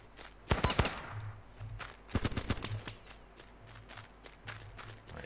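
Rifle fire in the video game Running with Rifles: two sharp clusters of cracking shots, one early and one in the middle, over a quiet background with faint low thuds.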